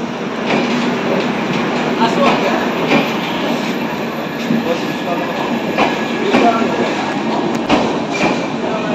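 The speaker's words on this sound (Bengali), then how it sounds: "আমাদের ট্রেন আমাদের গন্তব্য স্টেশনে আমাদের ছেড়ে দিয়ে চলে যাচ্ছে।" A train departing a station near Santiniketan rumbles and clatters steadily nearby, wheels clicking over rail joints in irregular beats as it moves off, loud and continuous.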